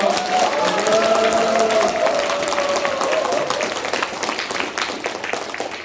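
A crowd at a Korean political election rally claps and cheers, loud and sustained throughout, with an amplified speaker's voice at the start.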